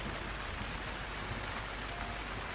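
Steady rain showers falling over new grass, the first of the season, a dense even patter of drops hissing continuously without any talk.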